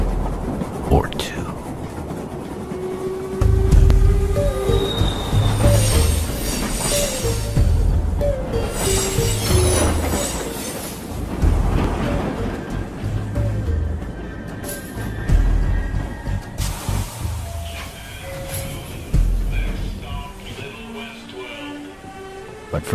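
A passenger train rolls along its rails with steady rumbling and rhythmic clacking over track joints, moderately loud and continuous, with occasional squeals and clatter from the cars.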